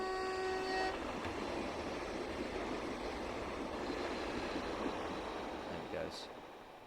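Koploper train in a Netherlands route train simulator game, a steady broad rumble of a passing train with a brief horn-like tone at the start, loud and close, fading slightly near the end.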